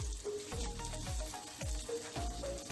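Fenugreek seeds sizzle and crackle steadily in hot oil for a tempering, a close, continuous frying hiss with soft stirring scrapes and no voices.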